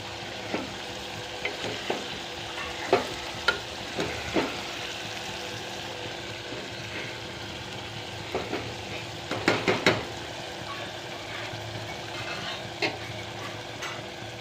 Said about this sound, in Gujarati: સરસ મજાનું શાકનો વઘાર થઈ ગયો છે જોઈ શકો છો